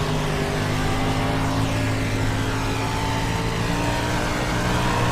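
Sprint car racing at Eldora in iRacing, 305 sprint cars running side by side: a steady, loud engine drone with layered harmonic tones holds continuously throughout, no voices.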